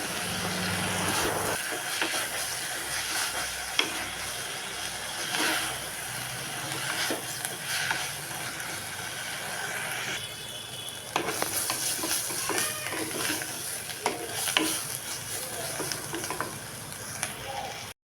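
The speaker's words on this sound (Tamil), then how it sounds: "கீரையெல்லாம் சேர்த்தாச்சு இப்போ நல்லா கிண்டி எடுக்கலாம்" Moringa drumstick leaves fry in a pan while being stirred, giving a continuous close sizzle with scraping and clattering of the spoon against the pan and occasional louder bursts.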